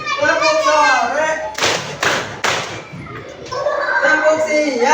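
Group of children clapping in rhythm to a 'tepuk pagi, tepuk sore, tepuk malam' clap chant, a few sharp claps cutting through loud chanting voices.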